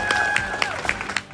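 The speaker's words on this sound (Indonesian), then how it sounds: "Tepuk tangan untuk semuanya." Brief clapping from a youth gathering in Cirebon, Indonesia, with a thin sustained tone running through it and a few sharper claps standing out.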